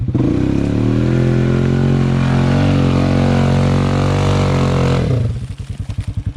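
A Honda Rincon 680 ATV on Gorilla Silverback tires roars at high, sustained revs while churning through mud, then drops abruptly to a loping, pulsing idle; loud and close.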